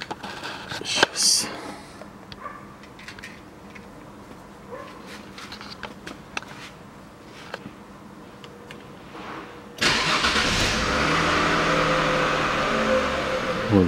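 Faint clicks and rustles come first, then a Chevrolet Epica engine starts with a sudden rise into a steady idle that carries on to the end.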